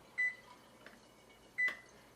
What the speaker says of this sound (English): I'm going to start by setting the timer, preheating it to